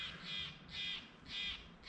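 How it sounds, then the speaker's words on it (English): A jay calls near Lake Tahoe with four harsh, evenly spaced, rasping cries in a steady rhythm, faint and somewhat distant over quiet outdoor background. "I'm gonna go investigate that jay and see if by chance he's alerting because there's a raptor"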